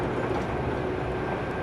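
Steady, dense rumble of a train moving at speed through the Australian outback, about 146 km/h, heard as a continuous broadband roar without talk.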